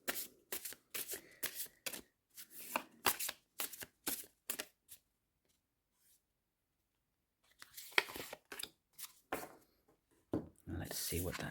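Woodland Wardens oracle cards being shuffled and drawn, with bursts of riffling and flicking close by, a quiet pause in the middle, and a voice speaking between the card sounds.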